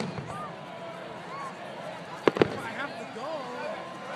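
Fireworks burst over an ocean beach at a 4th of July show, two sharp close bangs in quick succession standing out against steady crowd noise and chatter.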